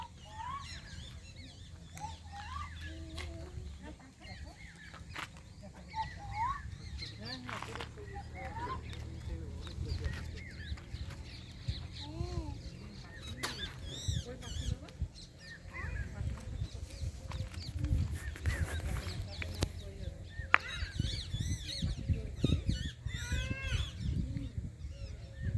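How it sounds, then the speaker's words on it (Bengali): Flock of parakeets calling at their roost at sunset in a forest at Dalma, many chirping and squawking birds overlapping continuously at moderate distance, with people talking faintly underneath. "টিয়া পাখির আওয়াজ।"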